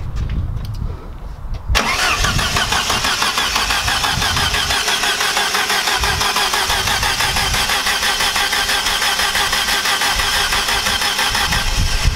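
A Saab 740 engine cranks briefly and catches, then settles into a loud, steady idle that runs on unchanged, close by.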